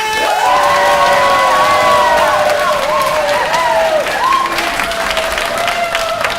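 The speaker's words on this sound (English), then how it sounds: "you will be cheering on Iron Cartoonist Beth Barnett!" A crowd at an Iron Cartoonist contest at MICE claps, cheers and whoops loudly for several seconds, with high shouting voices riding over steady applause before it slowly thins.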